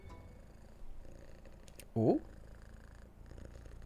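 A female cat purrs softly while being scratched on the chin, a faint low continuous rumble, and a voice briefly exclaims partway through.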